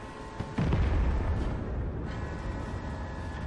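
A tank gun fires in World of Tanks with one heavy, booming shot. The low rumble lingers and fades for a few seconds, loud and close, with no talk.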